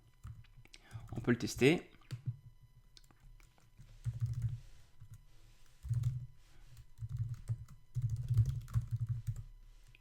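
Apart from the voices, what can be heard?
typing on a computer keyboard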